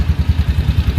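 A small engine idling after a fitting repair, pulsing in an even, rapid low thump about eight beats per second, loud and close with nothing else audible.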